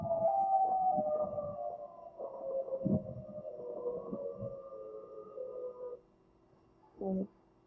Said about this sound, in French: Avec les bruits des sirènes.